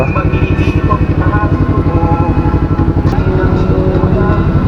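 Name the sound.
motorcycle with Yoshimura Alpha carbon full-system exhaust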